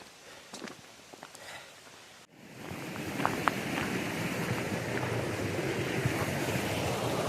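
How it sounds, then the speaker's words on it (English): Small waterfalls tumble along a mountain trail on Bote Mountain, a light rustle giving way to a steady, full rush of falling water that fills the rest of the scene. "With all those beautiful little waterfalls."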